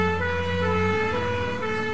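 Ambulance 16's siren wails steadily as it heads onto the highway on an emergency call after a road traffic accident, a constant loud tone with traffic rumble beneath.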